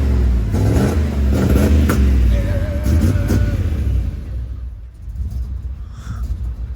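A GMT400 OBS truck engine cranks and catches, then revs with a rough, rumbling roar up close. It settles into a lower idle as the sound fades somewhat toward the end.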